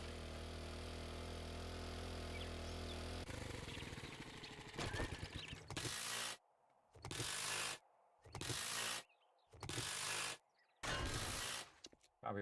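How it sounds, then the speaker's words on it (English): Wrenching salvaged vehicles for parts in 7 Days to Die: after a steady mechanical drone, five loud, evenly spaced bursts of grinding ratchet noise arrive, each about a second long and separated by brief silences. "What we really need is lots and lots of vehicles to wrench."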